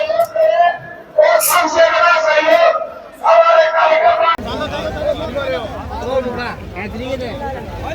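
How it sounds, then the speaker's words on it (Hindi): A large crowd at a political rally in Taranagar, a loud surge of cheering and chanting voices with shouted slogans, rising and falling in bursts before settling into a dense roar of babble. "भारी भीड़ यहां पर उमड़ रही है"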